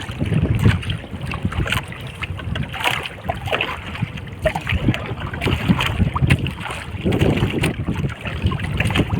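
Steady strong wind buffets the microphone over open water, with low rushing gusts and faint splashing around a small paddled boat.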